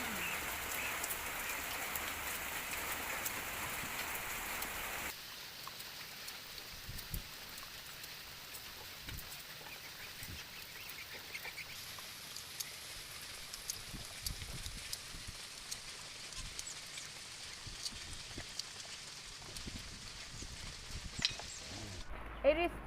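Steady rain falls outside, a soft continuous hiss of drops on surfaces heard close and fairly quiet throughout, louder in the opening seconds and with scattered small taps and knocks over the wash.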